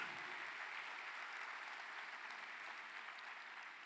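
A church congregation breaks into sustained applause, an even wash of many hands clapping at a fairly distant, soft level with no voices on top.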